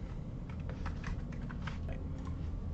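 Quiet, rapid keystrokes on a computer keyboard, a steady patter of clicks entering text in spreadsheet software, alone with no voices.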